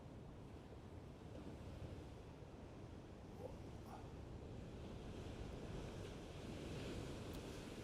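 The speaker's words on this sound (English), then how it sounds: "Look at the size of this wave coming in." Large ocean waves break and rumble steadily along the Irish coast under strong wind, a dense, continuous roar with wind buffeting the microphone throughout.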